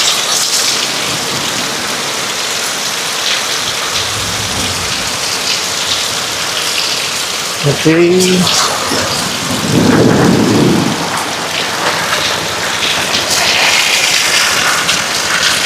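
Heavy typhoon rain pours down steadily in Tuguegarao City, a loud, dense hiss of drops hitting surfaces throughout, with a brief low rumble partway through.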